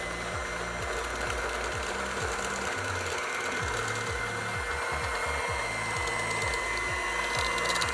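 A watermelon-colored electric hand mixer whirs steadily and continuously for the whole stretch, a close, buzzing motor drone with a repeating rhythmic chatter from the beaters.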